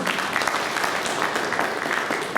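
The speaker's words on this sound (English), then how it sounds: "Can I have a big round of applause for all of you who are here?" Guests and media at a press meet for the Darjeeling Hill Marathon 2021 give sustained, dense applause, many hands clapping at once at steady loudness.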